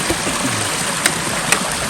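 A small mountain stream flows past on a trek toward Makra Peak, a steady close rush of water with no voices.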